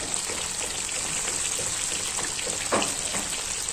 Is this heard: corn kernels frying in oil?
yes